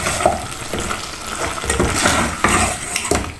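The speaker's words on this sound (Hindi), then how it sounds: "और अब हमने इसको अच्छा सा भूनना है।" Chicken with spices and two to three tablespoons of yogurt is fried and stirred in a pan. A steady loud sizzle runs throughout, with the spoon scraping and clinking against the pan in an irregular rhythm, close up and with no talking.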